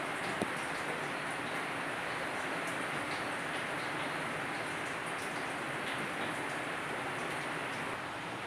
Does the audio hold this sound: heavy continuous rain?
yes